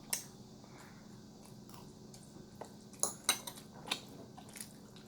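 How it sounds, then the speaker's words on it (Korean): Tteokbokki spicy rice cakes with rice being chewed close up, soft wet mastication with a few sharp clicks of cutlery against a dish. The sound is quiet and there is no talking. "자, 유리씨부터 한 입 먼저 먹을게요."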